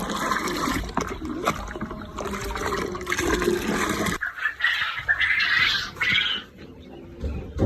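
Water being poured and mixed for poultry, a steady splashing and trickling that runs loud for several seconds, then shifts to a brighter, thinner pouring stream, close by with no talk.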